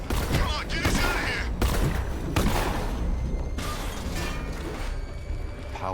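An enemy tank in Batman Arkham Knight fires, its heavy blasts and rattling bursts dense and loud throughout, with voices shouting underneath.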